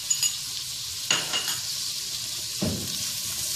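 Green chillies and chopped onions frying in oil in a pan for a beef karahi, a soft continuous sizzle with a couple of sharp utensil scrapes and clinks, close up and without speech.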